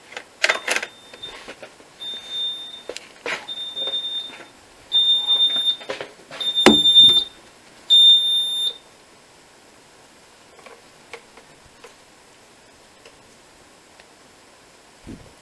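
A Neutronic Type 2B fire alarm sounds in several steady high-pitched electronic beep bursts, each a few seconds long. A noisy relay clicks and clatters between and after them, close by in a quiet room.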